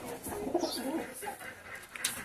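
A teddy pigeon gives soft, close cooing calls in a short burst, fairly quiet against light background noise.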